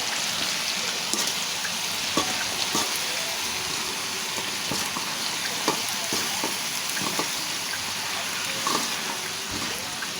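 A home-cooked dish frying in a pan is stirred with a utensil, producing a continuous sizzle with scattered scraping taps and clinks at close range, no speech.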